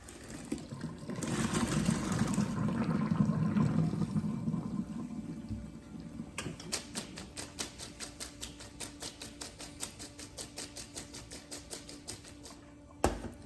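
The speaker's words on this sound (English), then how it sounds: "Let's go drain this water off" Pasta cooking water drains from a pot, first as a steady rushing pour, then as a run of rapid trickling splashes and clicks, close by and moderate in volume.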